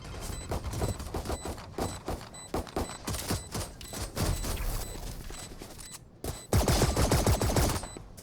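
Rapid gunfire from the video game Valorant, a dense stream of repeated shots and bursts in a busy competitive match, layered and continuous with one brief lull.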